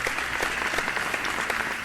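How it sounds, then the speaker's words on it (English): A crowd at a spelling bee claps steadily for bronze medal winners, an even patter of many hands with no voices. "Give them a good round of applause"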